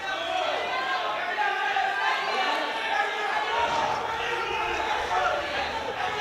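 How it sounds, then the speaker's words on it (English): A powerlifting championship crowd cheering and screaming for a local lifter, a dense roar of many voices in an arena, steady and fairly loud, with a commentator talking over it. "The coach just signaled the crowd to cheer the local hero on, and everyone is screaming."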